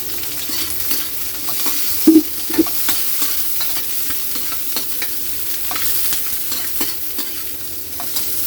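Garlic and onions frying alongside browning milkfish in a pan, a continuous loud sizzle with utensil scrapes and a couple of sharp metallic knocks.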